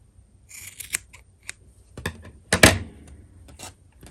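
Scissors snip a yarn tassel on a Christmas angel ornament: a scattered series of short, crisp, close cuts with one louder snip near the end, in an otherwise quiet room.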